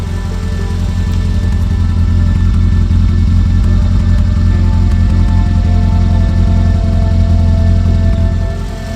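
A Peugeot 205 GTI's 1.6 engine runs rough and steady up close, a loud, continuous low rumble with uneven firing and no talk, cutting off near the end.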